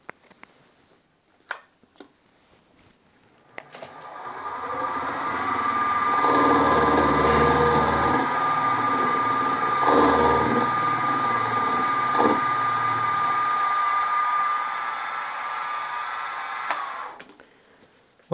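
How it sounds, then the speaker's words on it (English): A four flute roughing end mill on a milling machine cuts a metal engine frame, rising into a sustained whining, grinding cut with a steady tonal hum that runs for about twelve seconds before spinning down, with a few clicks before and after. "to remove the bits in the middle, I'm using this four flute rougher"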